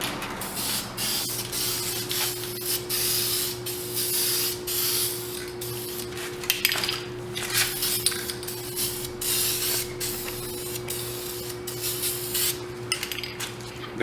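Aerosol spray paint hisses in repeated short bursts as a light first coat goes onto car hubcaps, close and fairly loud, with a steady hum underneath and occasional can rattles between passes.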